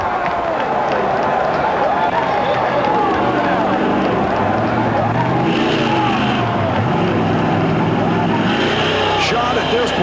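Valvoline Chevrolet monster truck engine roaring steadily among crushed cars on an Anaheim arena race course, a loud continuous revving drone with shifting pitch, heard under a commentator's voice and crowd noise.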